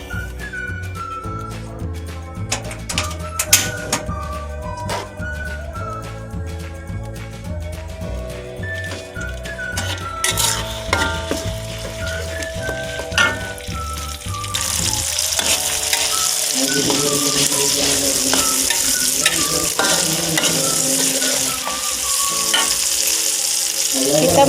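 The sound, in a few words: sautéing rendang spices: cinnamon, nutmeg, star anise, cardamom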